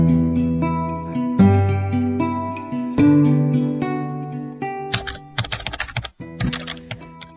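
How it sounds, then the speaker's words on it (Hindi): Rapid, crisp typewriter key strikes clatter close by in quick bursts, with a few carriage-like rattling runs toward the end; no voices. "टाइपराइटर के बटन दबने की आवाज सुनाई दे रही थी।"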